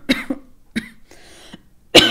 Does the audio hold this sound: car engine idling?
no